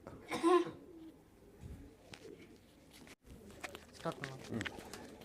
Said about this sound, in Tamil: இந்த புறாவினுடைய பேர் வந்து லில்லி பவுட்டர்னு பேர்